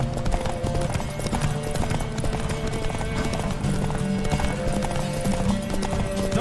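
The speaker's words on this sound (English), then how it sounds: "Don't spare the horse!" Rhythmic clip-clop of horse hooves galloping in The Witcher 3 at a quick, steady pace, loud and close, with a stylized game-like sound and faint other effects underneath.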